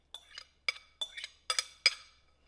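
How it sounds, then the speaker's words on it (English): Rinsed cannellini beans are dropped into a pan in a handful of sharp clinks and clatters spaced about half a second apart, close and fairly quiet, with no talking. "And then we're just going to put them into the pan"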